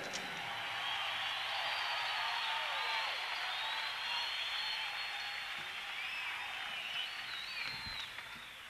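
Concert audience at a 1973 show in Fort Worth, Texas, applauding and cheering for a band member: a dense, steady wash of crowd noise with whistles and shouts, sustained at an even level throughout.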